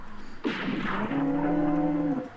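A single drawn-out cow moo from the video game West of Loathing, loud and close, with a sharp onset and a steady low tone held for about two seconds.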